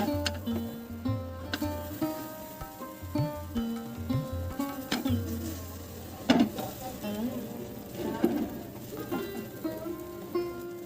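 Gram flour batter being poured slowly into hot rice bran oil sizzles and fries steadily, with occasional stirring and clinks of a utensil against the pan.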